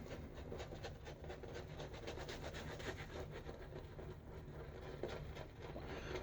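Safety razor, a Maggard V3A loaded with a Gillette Silver Blue blade, scrubbed back and forth over beard stubble, giving a steady dense rasping scrape that runs close and continuous with no talking.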